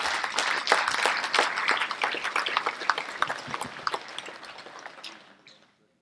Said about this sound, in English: Give them a round of applause if you would, please.